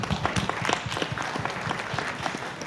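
At a Michigan House 2018 event, the audience gives a round of applause for the crew, a fairly soft, continuous patter of clapping heard from a distance.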